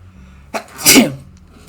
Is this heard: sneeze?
yes